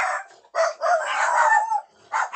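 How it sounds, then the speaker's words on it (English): Dogs barking indoors, a few sharp loud yelps and barks in quick bursts with brief gaps, close by. "that's the dogs"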